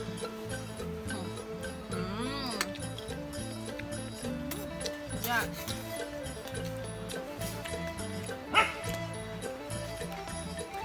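A dog barks and yips a few times at a distance beneath someone speaking Thai at home, with steady background noise and a louder yelp near the end.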